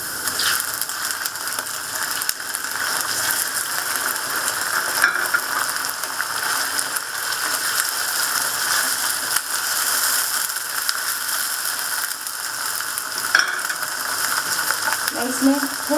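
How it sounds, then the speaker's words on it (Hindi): Chicken pieces frying with light-brown onions in a pan for a spicy chicken and capsicum curry, giving a steady close hiss and sizzle that runs unbroken, with a few faint scrapes and clicks near the end. "अब मैं इसमें चिकन ऐड करूँगी।"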